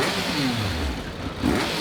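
A 2018 Triumph Speed Triple motorcycle engine revs loud and close, a steady throaty roar with rising pitch sweeps as it spins up quickly.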